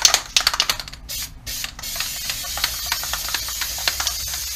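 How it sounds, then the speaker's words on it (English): Aerosol undercoating sprayed onto the bare metal underside of a BMW E46 330xi, a close hissing spray in short bursts and then a steadier sustained hiss broken by small clicks and taps. "you only have to spray the undercoating on the metal, the bare metal."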